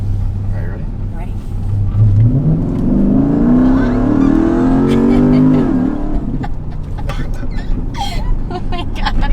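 A cammed Jeep Grand Cherokee SRT accelerates hard from near rest with traction control off, its engine note climbing loudly through a rising rev sweep before easing off, with occupants talking and reacting in the cabin.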